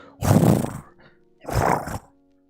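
A person imitates a horse neigh twice, two loud, rough whinnying calls with a short pause between them.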